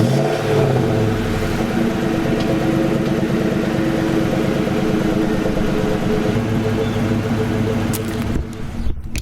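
A Ford Mustang SN95 Cobra on its stock exhaust gives a steady, deep engine rumble that holds loud and close for about nine seconds, easing off slightly at the very end, with no speech over it.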